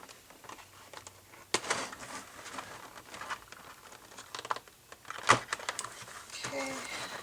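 A cardboard toy box package for a Gooliope Jellington doll being torn open by hand, with tape along the top; scattered crinkling and ripping bursts at close range, sharpest around the middle and end, over faint handling noise.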